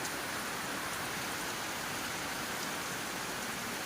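Steady rain falls on a garden, a dense, even hiss of drops striking leaves and ground, close and continuous with no voices.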